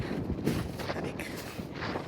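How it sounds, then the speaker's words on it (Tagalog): Strong wind buffets the microphone in a continuous rough roar, loud and close, with faint gusty swells and no clear speech, while climbing at Moerenuma Park in Hokkaido. "tapos ang lakas ng hangin."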